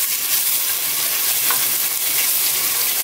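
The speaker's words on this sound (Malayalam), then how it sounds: "ഇഞ്ചി ഒന്ന് നന്നായി വഴറ്റിയെടുക്കാം." Crushed ginger sautéing in hot oil in a pan for a Kerala-style crab roast makes a loud, continuous close sizzle and hiss, steady throughout and ending abruptly.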